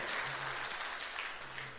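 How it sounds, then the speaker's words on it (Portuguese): A church congregation applauds as a dense, steady wash of clapping filling the whole short stretch, with a faint low tone sustained beneath it. "vamos aplaudir o Senhor"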